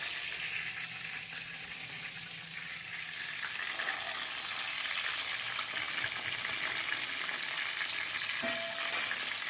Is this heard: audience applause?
no